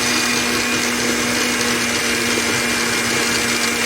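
An electric mixer runs at high speed, whipping a thick chocolate cream pie filling, a loud steady whirring drone with a constant motor hum throughout and no talking.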